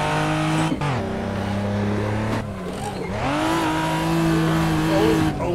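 A car drifting in the Assetto Corsa racing game, its engine droning loud and steady with pitch swings as revs rise and fall, and a short dip near the middle.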